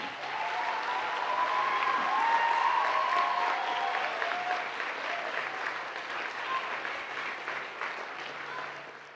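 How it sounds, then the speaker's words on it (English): A large audience claps in sustained applause at the CATS Academy Boston 2019 graduation ceremony, a dense even roar of hands that rises slightly and then tapers off. "please give them a round of applause for the support they have given you"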